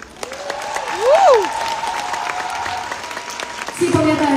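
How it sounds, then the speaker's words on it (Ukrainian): An audience on a TV talent show applauds, with clapping that swells briefly and carries on under sustained musical tones and voices. "Ваші овації"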